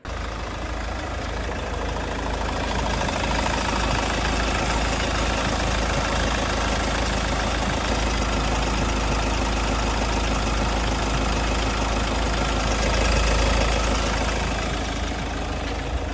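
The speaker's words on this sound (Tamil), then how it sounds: "இன்ஜினோட நாய்ஸை லைவாக கேளுங்க." A modified Mahindra Scorpio SUV with an mHawk diesel engine idles steadily close by, a continuous rough, knocking rumble holding an even level for the whole stretch, with no one talking.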